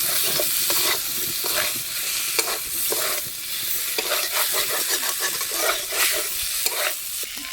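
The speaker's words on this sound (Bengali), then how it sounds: "এবার সব কিছু আবার একসাথে দু তিন মিনিটের মতো কষিয়ে নেব" Tomatoes and masala for a small-fish curry being sautéed and stirred together in a pan, a loud close sizzle broken by repeated scraping strokes of a spatula, no voices.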